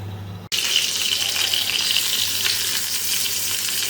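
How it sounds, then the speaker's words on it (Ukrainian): After a brief cut, a steady bubbling hiss fills the clip as soup boils vigorously in a covered pot nearby, continuous and fairly loud. "Все накриваю кришечкою і нехай супчик кипить."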